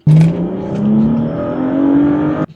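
A BMW M3 on snow tires revs hard on a cold road, a loud, close engine note climbing steadily for about two seconds before cutting off sharply, with no talking.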